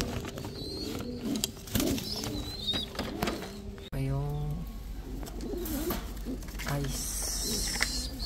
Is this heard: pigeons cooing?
yes